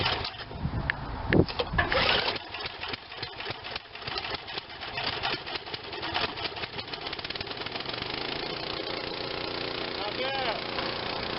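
A Craftsman lawn tractor engine cold-starting on starter fluid cranks with loud bursts, then settles into a steady mid-pitched idle that runs on to the end, with someone talking briefly at the start.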